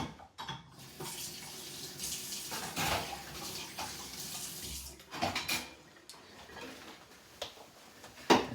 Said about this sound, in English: take the filter out, and wash these both best you can.